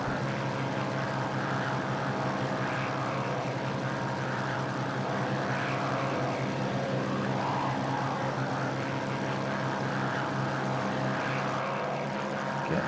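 A propeller aircraft taking off in the Prepar3D flight simulator over the Isle of Man gives a steady, droning engine hum that holds at an even, moderate level throughout.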